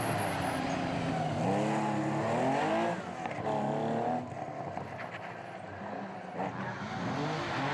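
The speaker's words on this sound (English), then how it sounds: "Local hero Francois Duval is immediately showing his immense talent at the wheel of an Escort." Ford Escort rally car driving at the Legend Boucles de Spa historic rally, a loud continuous engine roar with rising and falling revs as it accelerates and shifts, close and alone without voices.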